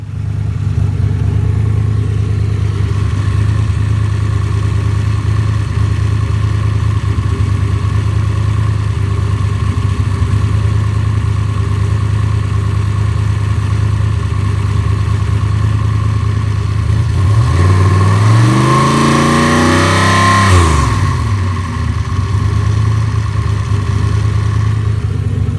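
A 4.6 modular V8 car engine idles steadily, then revs up sharply to around 3,000 to 4,000 RPM and falls back down once near the end, loud and close.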